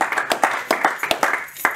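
A few people clap in uneven, close bursts at an evening charity event, sparse and individual rather than full audience applause.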